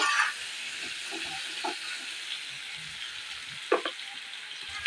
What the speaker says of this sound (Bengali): চারটে চেরা কচা লঙ্কা দিয়ে আরেকটু ভেজে নেব